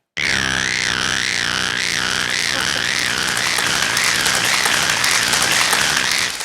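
A voice mimics a chorus of frogs croaking in a rain-soaked paddy field, producing a loud, continuous warbling call over a dense, noisy crowd-like wash that fades at the end.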